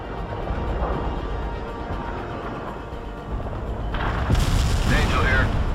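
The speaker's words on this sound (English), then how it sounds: "Heavy ordnance drop" A Daisy Cutter heavy bomb goes off in the World in Conflict strategy game, a deep sustained boom rolling over dense battlefield rumble and swelling louder toward the end, with no one speaking.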